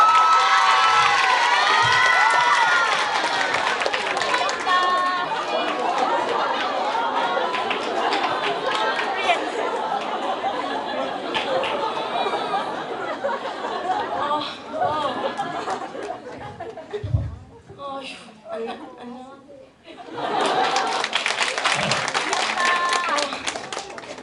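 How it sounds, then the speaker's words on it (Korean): Students at a girls' high school reading-day event cheer and applaud warmly as a classmate is introduced, a loud sustained crowd with shouts and chatter, fading briefly near the end before swelling again. "뜨거운 박수로 부탁드립니다."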